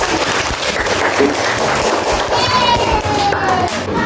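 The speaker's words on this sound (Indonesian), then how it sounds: "tepuk tangan yang meriah untuk kita" First-grade pupils in an Indonesian maths class give lively applause, a busy, continuous clatter of small hands clapping with children's voices and a faint squeak underneath.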